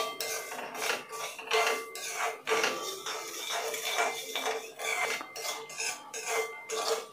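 Spoon scraping and rubbing inside a pot as sugar syrup is stirred, a steady series of close, rasping strokes repeating with short pauses, no voices.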